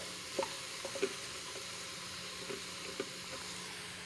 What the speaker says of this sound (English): I will transfer now all the vegetables, the onions, the garlic, and the carrots into the oil